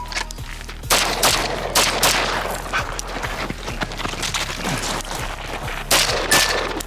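Rapid strings of gunshots fired on three targets during a shooting drill, sharp cracks in quick bursts with short pauses between strings, loud and close, no talking.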